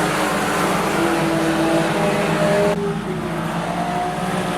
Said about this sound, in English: You hear Kennedy on and off the throttle, getting the cut